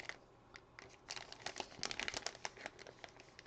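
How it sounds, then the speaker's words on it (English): Close crinkling and rustling of a plastic bag being handled, in short irregular bursts, quiet with no talking. "I'm getting a plastic bag"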